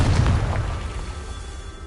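Confringo blasting spell in Hogwarts Legacy going off as a single deep, booming burst that decays into a rumbling tail, with no voices.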